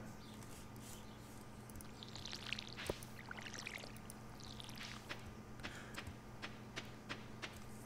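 Soft splashing from a watering can on crops in the farming game Stardew Valley, faint and brief, sitting over a steady quiet game background.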